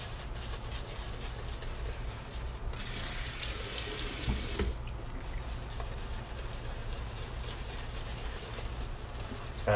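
A tap runs into a sink to wet shaving soap and a brush, a steady low trickle that swells into a louder, brighter gush for about two seconds before easing back to a quieter flow, close by with no talking.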